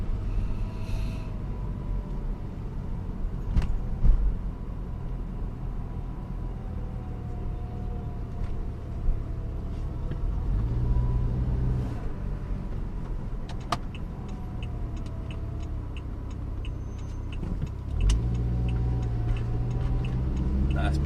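A tuned Saab 9-5 with a 2.3-litre engine and TD04 turbo is heard from inside while driving, a steady low engine drone with rises under throttle and scattered ticks and clicks in the cabin.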